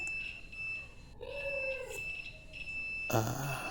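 A multimeter in diode-test mode emits a sustained high electronic beep while its black and red probes touch a diode's leads, with brief clicks and handling noise around it.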